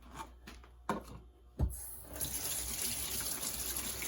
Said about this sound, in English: Let me start washing and I'll show you.